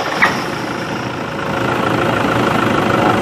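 A Toyota Vigo pickup engine with leaking injector seals starts up and settles into a loud, steady diesel idle, with no talking.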